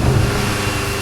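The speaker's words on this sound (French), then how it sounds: "la pièce maîtresse de cette version, c'est son moteur, un gros V8 biturbo de 560 chevaux" A BMW M5 with a 560 hp twin-turbo V8 rumbles loudly and steadily for a moment, a deep close-up engine note with no talk over it.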